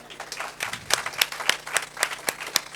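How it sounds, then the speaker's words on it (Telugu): An audience claps in a hall, sharp individual claps forming a steady, moderately loud round of applause. "ఎవరైనా చప్పట్లు, తాలియా బజావ్."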